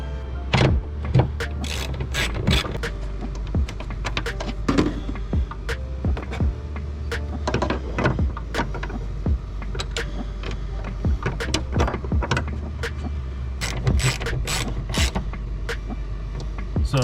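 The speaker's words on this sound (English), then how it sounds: "you're going to remove the 10mm bolt and you're going to replace it with this" A hand ratchet works a 10mm bolt on a Ford Mustang hood, giving rapid, repeated clicking and creaking strokes in an uneven rhythm, close and clear with no talk.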